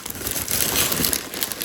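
Brief, close crinkling of thin plastic, a dense crackly rustle lasting under two seconds.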